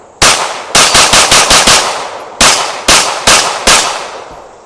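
A Springfield Prodigy 1911 DS 9mm pistol fires ten loud, sharp shots at close range. They come in quick bursts separated by brief pauses, and each report rings out and decays quickly.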